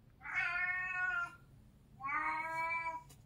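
A house cat gives two loud, close, drawn-out meows, each about a second long, separated by a brief pause in an otherwise quiet room.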